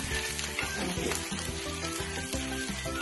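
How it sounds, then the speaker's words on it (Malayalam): Curry leaves, ginger and garlic crackle and sizzle steadily in hot oil, a faint, continuous close-up frying hiss with small pops and no talking. "എണ്ണ നന്നായിട്ട് ചൂടായതിനു ശേഷം നമുക്ക് അതിലേക്ക് അതിൽ കുറച്ച് കറിവേപ്പില ഇടാം"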